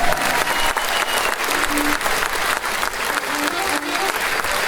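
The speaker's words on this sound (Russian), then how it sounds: "Аплодисменты" Sustained audience applause fills a concert hall, dense and steady for the full stretch, with a faint voice briefly audible beneath the clapping.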